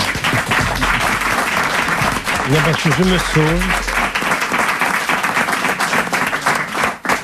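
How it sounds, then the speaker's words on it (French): Steady studio audience applause on a French television show fills the whole stretch, with a voice speaking briefly over the clapping. "Et on va l'applaudir pour l'ensemble de son œuvre."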